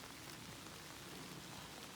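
Quiet, even hiss of rain falling steadily on surfaces, a soft continuous patter with no voices.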